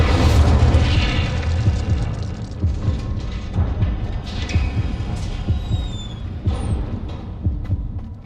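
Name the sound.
Incendio fire spell burst in a video game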